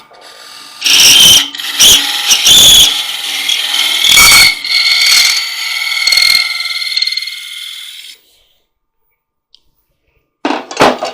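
Wood lathe turning a quarter-inch tenon on a goblet base, a loud close scraping and whirring as the tool cuts in repeated passes, then falling silent before a brief final burst.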